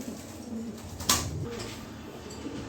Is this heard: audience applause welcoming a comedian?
no